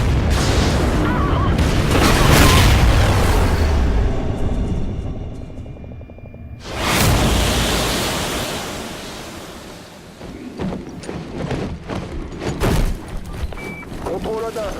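A station explodes in the Call of Duty Ghosts campaign: a loud broadband boom with roaring rumble, a sudden second blast around midway, then crackling debris and rumble that continue underneath.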